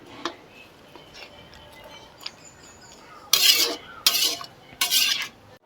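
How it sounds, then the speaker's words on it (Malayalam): A spoon stirs anchovy fish pickle in a pan: a few faint taps at first, then three loud, close scraping strokes in quick succession. "നെത്തോലി ചേർത്തതിന് ശേഷം ഒന്ന് മിക്സ് ചെയ്ത് കൊടുക്കാം."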